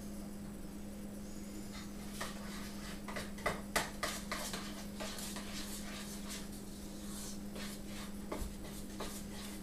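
Flour being stirred into poppy seed cookie dough in a bowl: soft scraping and clinking of a utensil against the bowl in irregular strokes, quiet and close over a steady background hum, with no talk.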